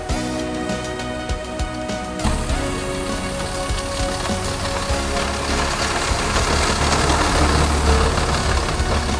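An executive intercity bus engine runs steadily with a smooth, even hum and a low rumble, heard from inside the cabin over a broad background wash, no one speaking.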